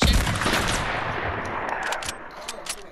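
Rapid sniper and automatic gunfire in the video game Fortnite during a 1v1 match, loud and dense with a heavy blast at the start and sharp repeated cracks continuing throughout.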